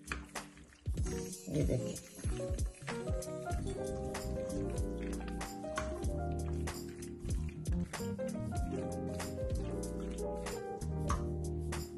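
Mayonnaise being stirred for a chicken macaroni salad makes wet, squishy, sticky mixing sounds in a steady rhythm, close by, with a person briefly talking over them.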